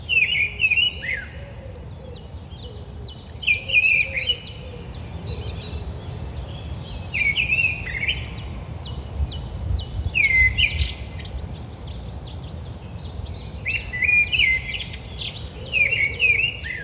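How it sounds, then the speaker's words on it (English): A mistle thrush sings in short, repeated fluty phrases every few seconds over a low rumble of outdoor background noise, fairly distant, in January. "But we heard mistle thrush several times."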